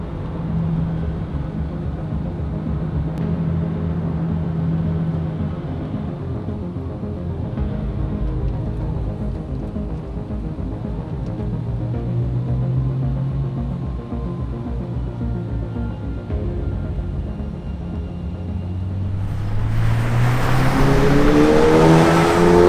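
A Porsche 996 with a 412 hp build runs as a steady, loud engine drone close by, with pitch slowly rising and falling, then swelling sharply into a harder rev near the end.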